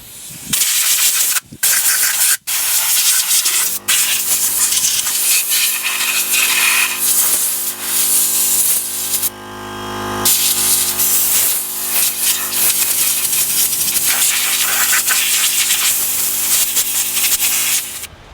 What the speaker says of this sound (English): I'm just going to blow off some of this excess brake dust that is in here.